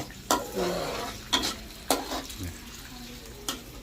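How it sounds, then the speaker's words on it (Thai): Garlic and shallots frying in oil over low to medium heat, a steady sizzle broken by several sharp stirring scrapes at irregular intervals, close up with no talking. "เจียวกระเทียมใช้ไฟอ่อนๆกลางๆครับ"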